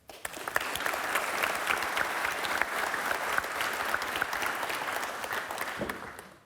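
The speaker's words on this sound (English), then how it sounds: "we can give an applause to all of those" A seated audience at a talk on Finnish ocean-race sailors applauds in a sustained, dense rush of many hands, steady and moderately distant, fading out at the end without speech over it.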